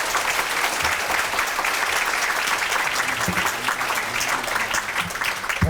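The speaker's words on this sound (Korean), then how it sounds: "여러분 뜨거운 박수로 함께 해주시죠" Audience applause at a public deliberation forum in Changwon, a continuous, even wash of many hands clapping, moderately loud throughout with no speech.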